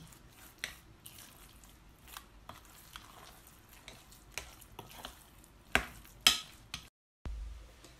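Chicken spring roll filling with egg being stirred by hand in a bowl, a soft, quiet run of wet squishing and scraping with a few louder clinks and slaps near the end.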